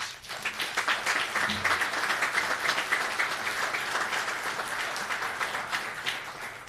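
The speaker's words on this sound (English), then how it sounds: "Let's give them and him a round of applause." Audience applause at a city commission meeting, sustained dense clapping from many people that holds steady for several seconds, with no talking over it.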